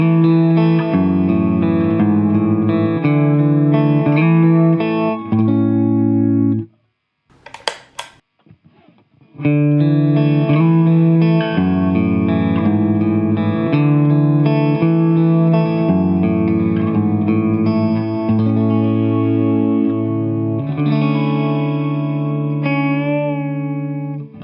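Distorted electric guitar played through a reverb pedal set to room type, with decay, damping and pre-delay at mid settings, into a Wax Boutique MV50 amplifier; loud sustained chords with a brief gap and faint plucked notes before resuming.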